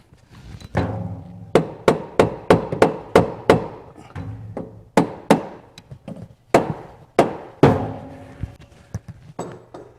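A hammer taps on the carburetor studs of a 1973 VW Beetle Super Beetle with a 40 IDF carburetor: a dozen or so sharp, close knocks in quick irregular bursts, with no talking.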